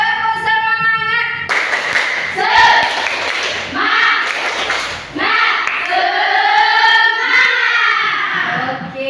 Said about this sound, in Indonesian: Sekali lagi ya. Tepuk semangat.